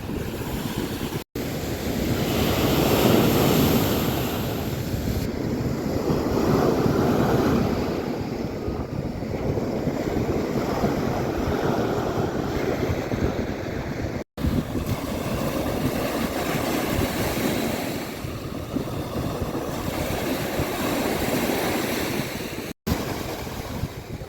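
Sea waves on a wild, dark-sand beach at Saulkrasti on the Baltic coast keep up a steady, loud roar of surf with wind gusting across the microphone for the whole stretch.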